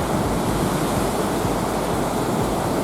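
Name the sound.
waves on a beach in Sri Lanka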